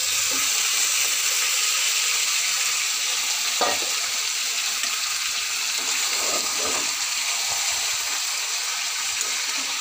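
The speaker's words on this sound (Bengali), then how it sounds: "আমার মাংসটা কষা চলছে, তো আমি ভালো করে কষিয়ে নেব।" Steady broadband sizzle of desi chicken meat sautéing in a pan, continuous and close, with occasional clinks and scrapes of stirring.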